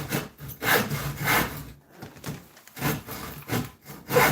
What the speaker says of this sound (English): I'm just going to cut another piece for Max because he's enjoying it.